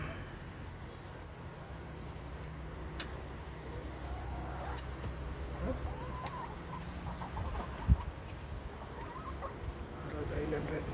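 Rhode Island Red chickens cluck softly in a noisy outdoor yard, low and continuous over steady background hum, with a sharp knock or clack partway through.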